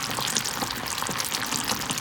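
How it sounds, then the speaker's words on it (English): A pot of candy apple sugar mixture boils on the stove, giving off a dense, even bubbling and crackling hiss that holds steady throughout with no voices over it. "My mix is boiling."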